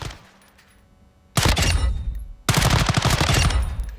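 Two sustained bursts of automatic fire from a tactical weapon in Call of Duty Modern Warfare II, loud and close, the first running about a second and the second nearly two seconds, with rapid overlapping shots and no talking.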